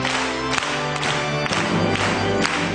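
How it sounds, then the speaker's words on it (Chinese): A church congregation applauds loudly: dense, sustained clapping fills the space throughout, with steady tonal music running underneath. "我们大声的鼓掌"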